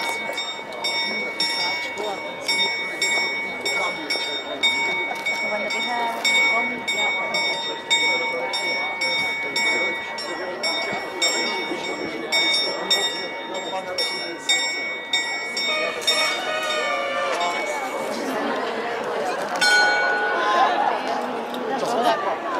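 Small bell struck repeatedly by the skeleton figure on the Prague astronomical clock, a steady ringing ding over a crowd murmur in the square, with a voice talking nearby.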